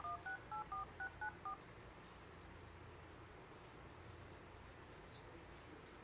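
Telephone keypad DTMF tones dialing a Globe hotline number: seven short beeps in quick, even succession, clear over a faint steady hiss, then only background noise.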